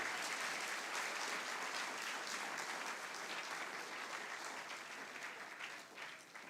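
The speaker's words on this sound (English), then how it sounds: "I honestly think our orchestra deserve another round of applause." A graduation audience applauds the orchestra in a sustained, dense round of clapping from many hands, fairly distant and even, tapering a little toward the end.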